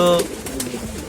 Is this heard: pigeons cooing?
yes